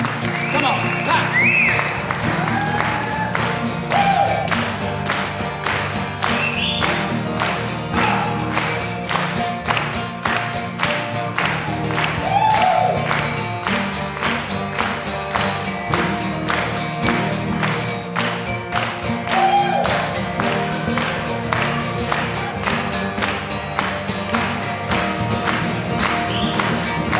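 A concert audience at St Pancras Old Church in London claps along in a steady, even beat over live folk-style music, the rhythmic handclaps continuing evenly throughout.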